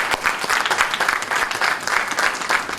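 Loud, lively applause from the crowd at a primary schools' public speaking competition, many hands clapping close by in a dense, slightly pulsing burst that fills the whole moment with no talking.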